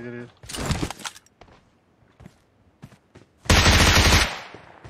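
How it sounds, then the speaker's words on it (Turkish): Loud video-game gunfire, an early burst and then a heavy blast-like pump shotgun shot near the end, with quieter clicks and footsteps between. "Pompalı sesini duydum ya."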